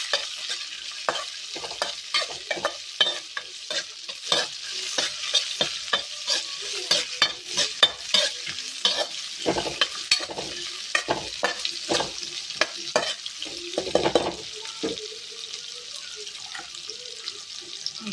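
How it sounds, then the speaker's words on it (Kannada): Chopped onions fry in a pan for a moong dal and ridge gourd palya, with a steady close sizzle broken by frequent sharp scrapes and clacks of a spatula stirring throughout. "ನೀರುಳ್ಳಿ ಚೂರು ಫ್ರೈ ಆವಡು"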